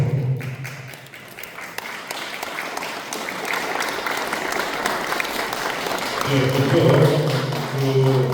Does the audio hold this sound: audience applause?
yes